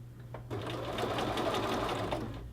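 Sewing machine stitching a shirt collar to its collar band, a steady close mechanical whirr starting after a brief quiet moment and running continuously without talk.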